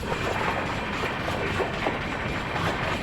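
A train pulls into Bidadi railway station, its wheels rumbling and clattering over the rails with rattling carriage mechanisms, a loud steady rolling noise close by with no voices.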